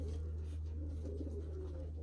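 Young racing pigeons coo softly and low close by, a faint soft burbling over a steady low hum indoors.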